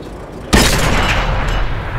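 A tank cannon shot in World of Tanks lands a hit, a sudden loud boom after half a second of engine hum, followed by a sustained rumbling tail.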